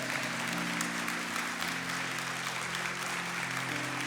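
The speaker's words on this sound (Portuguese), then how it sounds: "você pode aplaudir a misericórdia de Deus" A church congregation applauds, a dense, steady wash of many hands clapping throughout, moderately distant and even in level, with a faint tonal hum underneath.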